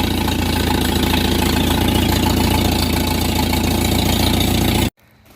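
A rebuilt carbureted engine idles steadily and evenly at close range, a loud, constant rumbling drone that cuts off abruptly near the end.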